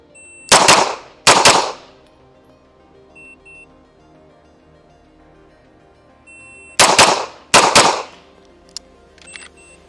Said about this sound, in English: I'm gonna fire 2 really fast shots